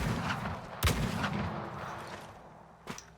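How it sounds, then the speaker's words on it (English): Shotgun blasts in the video game Weird West: two sharp, booming shots roughly two seconds apart, the first heavier, over a low rumbling game backdrop. "We'll just murder him with a shotgun."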